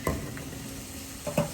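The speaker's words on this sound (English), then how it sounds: "In goes the garbanzo beans, okay? All right, yeah, we got a little sizzle going on." Garbanzo beans sizzle in hot melted coconut oil, a soft steady frying hiss broken by a couple of brief clatters of stirring against the pan.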